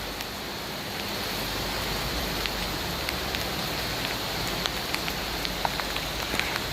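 Steady rain falls in Pattaya, a dense continuous hiss with scattered close drip and splash ticks, moderately loud and without voices.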